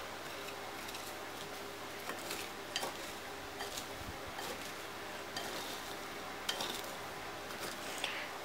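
Small pickled leeks being stirred with sugar and salt in a bowl, with scattered light clinks and scraping taps of a utensil against the container over a quiet background.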